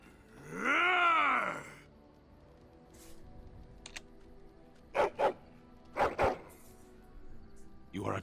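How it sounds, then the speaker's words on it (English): A dog in the Dragon Age: Origins video game lets out a long groaning growl, then sharp barks in quick pairs a few seconds later. The sounds stand alone, fairly close and clear. "Dog."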